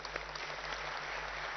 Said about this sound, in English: I think it deserves a bigger round of applause